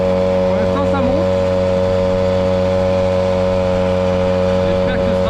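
A Peugeot 103 moped engine labours up a steep hill at about 22 km/h. It makes a loud, steady, close buzzing drone with strong even harmonics that holds unbroken throughout.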